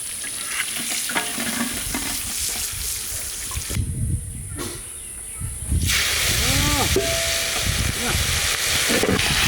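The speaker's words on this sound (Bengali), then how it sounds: "মাছ ভাজা হচ্ছে" Silver carp fish frying in hot oil, a continuous loud sizzle and hiss with stirring scrapes, broken briefly by a quieter stretch before the sizzling returns stronger.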